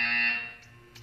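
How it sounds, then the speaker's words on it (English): A harsh electronic buzzer from the Portal 2 video game sounds once, loud and steady for a moment before fading, heard alone without speech. "You will hear a buzzer."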